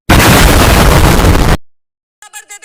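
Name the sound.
explosion of 200 kg explosive in car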